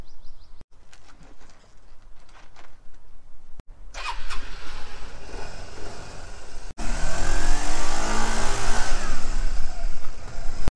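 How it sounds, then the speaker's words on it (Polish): A motor scooter sets off through town on a fine day: a small engine starts and idles, then a louder, wind-buffeted drone as it rides along. "skoczę z skuterkiem raz, dwa przez miasto"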